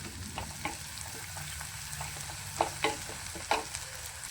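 Ground masala paste fries in a pan for a crispy bitter gourd dish, giving a soft continuous sizzle broken by a few sharper spatula scrapes and taps, close by, with no voices.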